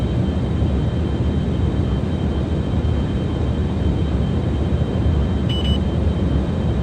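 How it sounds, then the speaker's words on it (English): Engines of a Delta Glider IV spacecraft in a spaceflight simulator give off a steady, dense roar. It is loud, unbroken and even from start to finish, with no voices over it. "I'm now activating the engines and I'm trimming up."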